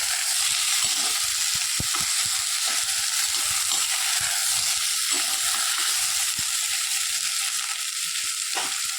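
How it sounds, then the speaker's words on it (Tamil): Whole unpeeled raw mango sautés in a hot pan, a constant loud sizzle with occasional faint scrapes and pops from stirring close by. "இது கொஞ்ச நேரம் வதங்கட்டும்"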